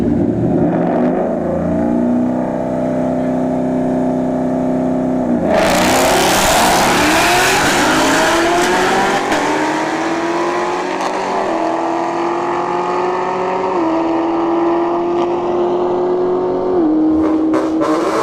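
A Ford Mustang S550 and a ZL1 Camaro launch at a drag strip, a loud burst of engine roar suddenly erupting after a lower idle, then climbing through revs with distinct gear shifts as the cars pull away.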